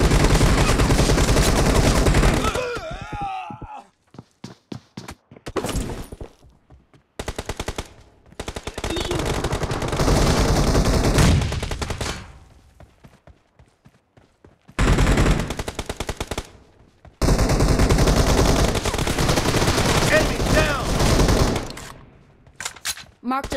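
Close gunfire from shotguns and automatic weapons in the mobile battle-royale game PUBG Mobile, played in Arena mode, with dense bursts of loud shots separated by short pauses and quieter gaps throughout.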